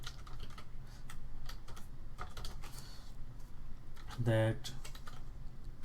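A code comment is typed on a computer keyboard in Visual Studio, with rapid close clicking keystrokes in irregular bursts and a short spoken word.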